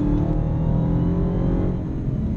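Dodge Hellcat engine in drive mode accelerating from about 50 on open road, a loud steady low rumble from inside the car with a slight fade toward the end.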